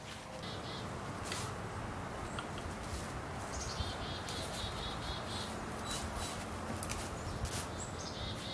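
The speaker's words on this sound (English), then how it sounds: "It's actually some birds" Birds chirp and call around a tree where a birdhouse is being mounted outdoors, with thin repeated tweets over a steady wash of faint insect-like background noise.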